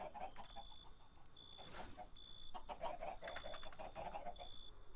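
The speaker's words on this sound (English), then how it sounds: "So the idea would be to bring the chickens into here now." Chickens in the video game Ancient Kingdoms cluck in a quiet, repeated pattern alongside thin game tones and soft background ambience.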